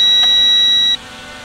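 A Potensic D68 drone's low-battery warning gives a single continuous high electronic beep for about a second, then cuts off, leaving a steady background hum.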